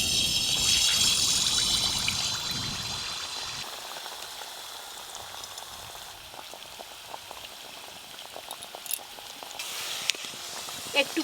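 Pitha fry in hot oil with a bubbling, crackling sizzle that is loudest at first, then settles into softer popping and spitting with scattered sharp crackles near the end, under faint background sounds.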